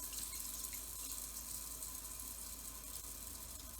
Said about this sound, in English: So you want to put 3/4 of an inch of water in